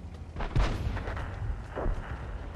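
Tank cannon shots in World of Tanks during a tier 6 stronghold skirmish, two booming reports about a second apart with rumbling low end, fairly close over steady battle background.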